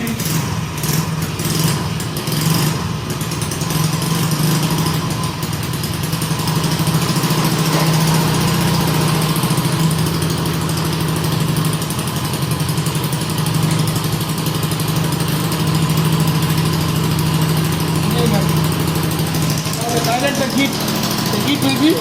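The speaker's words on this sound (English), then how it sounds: "Now start the engine. Automatically the voltage will be increased." A bike's motorcycle engine, its exhaust heating a thermoelectric generator, runs with a steady, loud low drone and rapid mechanical chatter, holding a constant idle throughout.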